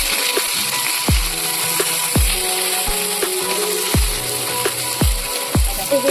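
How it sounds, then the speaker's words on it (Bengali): Loud, steady frying sizzle of chopped onion in a pan, punctuated by a series of sharp utensil knocks against the metal at irregular intervals. "এই যে এখানে পেঁয়াজ ভাজা হচ্ছে"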